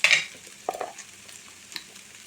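A spoon stirs coriander powder into mutton spleen frying in a pan, giving a brief scrape at the start, then a few soft scrapes and taps over a low sizzle.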